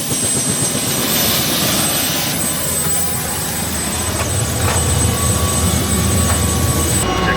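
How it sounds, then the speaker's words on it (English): Loud, continuous helicopter noise from close by, a dense roar of rotor and engine that holds steady throughout with no voices. "Woohoo! Helicopter time!"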